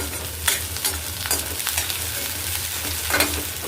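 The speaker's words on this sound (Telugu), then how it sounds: "పచ్చిమిర్చి, ఉల్లిగడ్డ వేసేస్తావు. కరివేపాకు వేసినావు." Green chillies, onion and curry leaves frying in a pan, stirred as they cook: loud continuous sizzle with scraping stirs and a low hum beneath, no talk.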